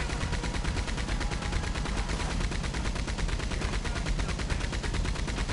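A Maxim machine gun in Red Dead Online fires in a continuous rapid stream of shots, a dense, even rattle that runs unbroken for several seconds, loud and close with no talking.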